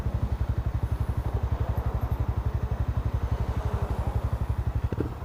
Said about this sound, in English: There goes a guy on a bike.